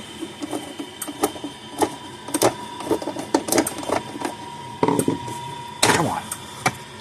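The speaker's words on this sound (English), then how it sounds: "Back here, we'll take this screws loose." Screws are worked loose on a Gallagher S40 solar fence charger, with a series of irregular small clicks, ticks and scraping taps from a hand tool on the plastic casing, close and fairly quiet.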